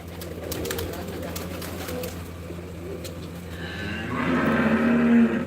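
Show pigeons coo softly and steadily close by, under a constant outdoor background that swells louder toward the end.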